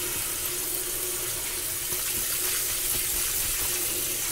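Running water washing a Moto X phone, a steady close hiss of tap water splashing continuously throughout.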